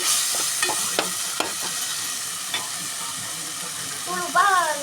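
Crushed green chillies sizzle steadily in hot oil, with a few sharp stirring knocks early on and a brief rising squeak near the end, fairly close and continuous.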